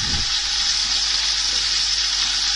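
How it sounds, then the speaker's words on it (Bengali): Garam masala fries in hot oil left over from frying quail, giving a steady, loud, close hiss of sizzling with no break. "আরও কিছু তেল আমি দিয়ে গরম মশলাটাকে আমি একটু ভেজে নেব দুই তিন মিনিট"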